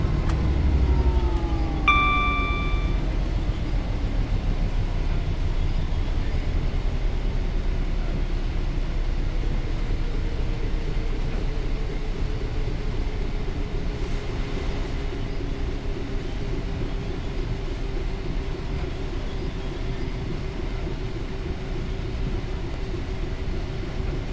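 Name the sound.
Class 66 freight train passing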